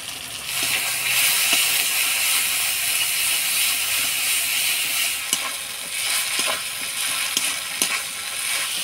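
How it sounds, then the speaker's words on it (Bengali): Ginger paste, crushed garlic, turmeric and salt sizzle steadily in hot oil in a pan while being stirred, with a continuous close fry broken by occasional scraping clicks of the spoon. "ভালো করে নাড়াচাড়া করে নিলাম"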